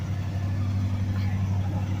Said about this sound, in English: I got this thing idling and it's idling high right now.